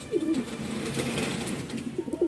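Native and foreign pigeons on a pigeon farm coo in low, throaty rolling calls, several overlapping coos at moderate distance over faint background noise.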